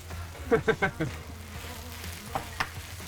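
A fresh tortilla pressed onto cheese frying in a pan, with a soft sizzle underneath and a few brief scraping and stirring noises. A voice speaks over part of it.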